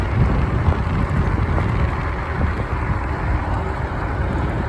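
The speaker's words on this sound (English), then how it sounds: "Wind's blowing a little bit today" Steady wind roars across the microphone during a ride on an Ecotric fat tire e-bike down through low, wet bottomland, a constant loud rumbling rush with no pauses.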